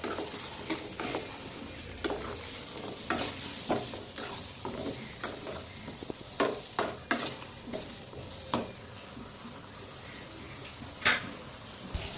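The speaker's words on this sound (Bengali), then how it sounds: "এখন আলু আর মিষ্টি কুমড়াগুলো তেলে ভেজে নিব" Pieces of potato and pumpkin sizzle in hot oil under a steady hiss, with repeated scraping stirs from a utensil against the pan.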